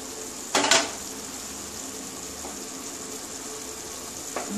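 A brief metallic clatter as a lid comes off a pot of drumstick chorchori, followed by a soft, even simmering hiss and a faint knock near the end.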